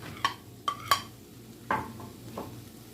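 Ham and potatoes heat in a pan, with a handful of sharp utensil clinks and scrapes against the metal over a soft, low sizzle, fairly close and with no talking.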